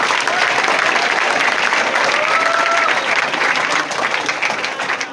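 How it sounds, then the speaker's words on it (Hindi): Loud, continuous applause from a large crowd greets an arriving guest at a student toppers' award ceremony, an even wash of clapping that holds strong throughout before easing slightly at the end. "एक बार जोरदार तालियों से स्वागत कीजिए धनंजय सर का।"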